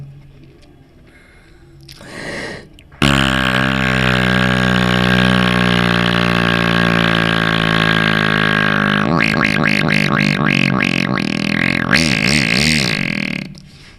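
A voice imitates a Ganges river steamer engine running out of fuel: a steady, loud droning chug that then turns uneven and sputtering before stopping.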